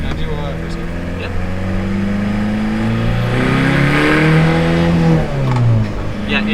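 Ford Ranger with a swapped VW TDI turbo diesel engine pulling away in first gear, a loud close drone whose pitch rises and falls as revs climb, with people talking inside the cab.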